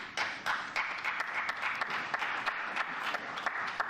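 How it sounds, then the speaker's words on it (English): Sparse clapping from just two or three people at a conference speech, the claps uneven and isolated rather than a full round of applause, moderately near with no voices. "Is it two people or three people clapping?"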